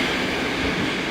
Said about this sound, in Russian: Вот следующий поезд идет, но мы его пропустим, пока посмотрим, поедем на следующий.